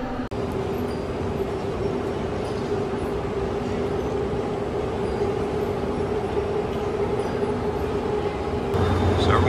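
A KTX bullet train at a Seoul station platform gives a steady, loud rumble with a constant hum under it, holding level throughout with a slight swell near the end.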